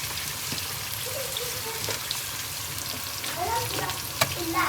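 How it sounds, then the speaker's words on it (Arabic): Koshari ingredients being stirred as they fry in a pan, giving a steady close sizzle and crackle broken by light scraping strokes, with no talking. "ونقلب بقى"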